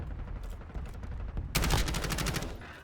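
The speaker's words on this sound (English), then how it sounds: "Someone shooting me." Video-game gunfire, scattered distant shots at first, then a loud burst of rapid automatic fire that fades off near the end.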